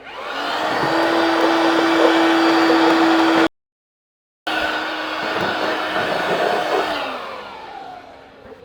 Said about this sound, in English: So I'm going to vacuum that all up